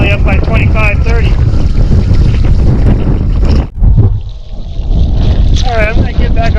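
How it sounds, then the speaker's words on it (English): Strong gusty wind buffets the microphone while wingfoiling on open water, a loud roaring rush that drops out briefly before surging back, with someone talking over it. "Going from no wind to quite a lot of wind."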